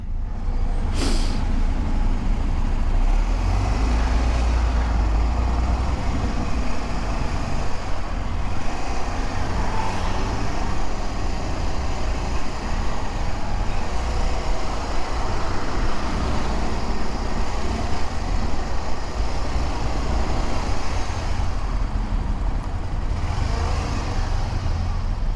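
Dense road traffic with a bus rumbles close by a moving motorcycle, a loud, continuous roar of engines and tyres with a brief hiss near the start.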